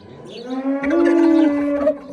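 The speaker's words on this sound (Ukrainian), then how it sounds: "Корівки мої мукають" A dairy cow moos once on a farm, a long, drawn-out bellow rising and holding steady before trailing off, close by with quiet background.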